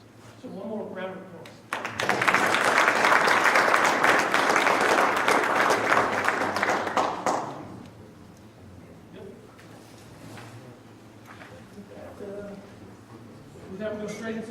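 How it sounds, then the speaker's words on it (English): A council meeting audience claps together for about five seconds, a full, steady round of applause that stops abruptly, framed by talking before and after. "So one more round of applause."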